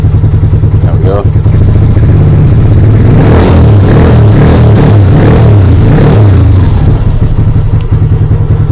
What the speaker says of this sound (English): The bike hasn't run in quite some time, which is why it's struggling to keep going